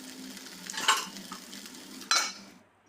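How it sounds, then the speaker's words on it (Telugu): Onion, tomato and three dried red chilies frying in a pan for a sesame chutney, a close sizzle with two bursts of stirring scrapes, fading as it ends. "దీంట్లో ఆనియన్, టమాటా, ఎండుమిర్చి 3 కూడా వేసి ఒకసారి కలుపుకొని మూత పెట్టేసి 2 మినిట్స్ ఫ్రై అవ్వనివ్వాలి"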